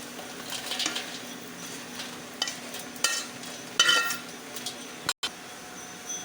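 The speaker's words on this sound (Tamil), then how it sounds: "மிளகாயும் இந்தமாரி பொன்னரமாக வறுத்து எடுத்துக்குவோம்" Dry chillies being roasted in a pan for idli podi give soft, intermittent scraping and stirring clatter over a faint low hiss, fairly quiet and close, with a few sharper taps of the utensil.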